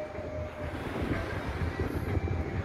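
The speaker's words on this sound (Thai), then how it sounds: "ได้ยินเสียงลมไหมฮะ" Strong wind buffeting the microphone on Pattaya beach, a steady loud broadband rush with gusty swells and no talk.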